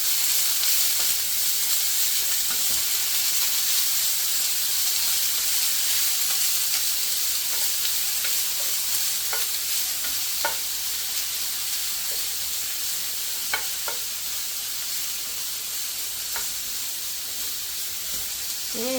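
Broccoli and beef frying together in a pan, a bright continuous hiss and sizzle carrying on at steady volume, with occasional clicks and crackles and light stirring, close and unbroken by talk.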